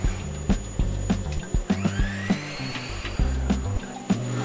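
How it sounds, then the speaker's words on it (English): A power drill bores a hole with a bit, likely into styrofoam for a threaded insert, in a workshop setting; the motor whines in short repeated bursts with brief pauses between, close and fairly loud, no talk over it. "So I'm drilling a hole using a drill bit."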